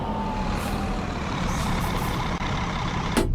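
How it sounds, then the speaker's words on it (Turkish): A Marcopolo coach's retarder, heard from outside while the bus works a winding mountain road between Mersin and Antalya, gives a steady whining roar over engine rumble that fades slightly near the end, with no talking. "Bakın rötardır sesini dışarıdan alıyoruz şu an."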